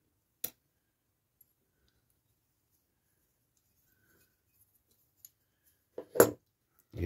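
Plastic and metal parts of a diecast Corgi Major Mack crane truck model click into place in a quiet room: one snap early on, a long stretch of near silence, then a quick cluster of sharper clicks near the end.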